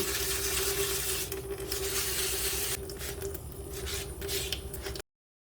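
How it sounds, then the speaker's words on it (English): Wet sanding of cast Jesmonite with waterproof sandpaper and water, a continuous close, loud gritty scrubbing hiss with a steady underlying hum, briefly easing in places before stopping abruptly. "use some water, and then start sanding"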